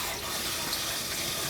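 Warm water running steadily from a tap while preparing a bath for a dog with a cherry eye, a continuous close, hissing splash with no pauses.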